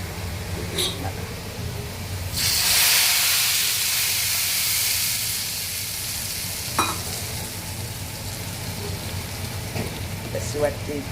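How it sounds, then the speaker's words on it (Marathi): Garlic frying in oil until it turns red, a steady sizzle that swells loudly for a few seconds when stirred, with faint clinks and a person talking. "लसूण जास्ती मस्तपैकी असा लाल जरत लसूण परतायचा"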